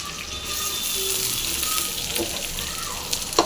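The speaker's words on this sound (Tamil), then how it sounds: "வெங்காயம் போட்டு நல்லா ஃப்ரை பண்ணி நல்லா ஃப்ரை ஆகிறோம்" Chopped onions, garlic and green chillies fry in a pan, making a steady, even hiss with a few faint clinks near the end, close by and with no one talking.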